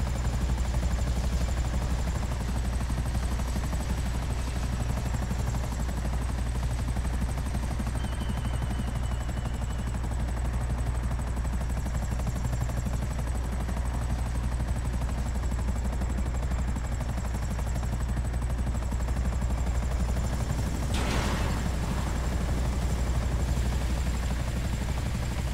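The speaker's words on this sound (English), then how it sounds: "Am I supposed to land the chopper over there?" A helicopter in Grand Theft Auto V flies with a steady, loud rotor drone throughout, a continuous unbroken roar with a brief swell near the end.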